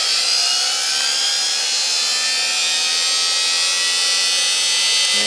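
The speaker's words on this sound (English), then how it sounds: "We're going to start our motor first" A high, steady electric motor whine on a test rig, running loud and constant with dense upper hiss throughout, shifting slightly near the end.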